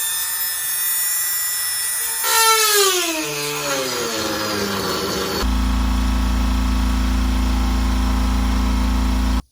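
A ZL1 Camaro headlight housing is cut open with a power tool, giving a loud sustained whine whose pitch sweeps downward, then a steady droning cut that runs for several seconds before stopping abruptly.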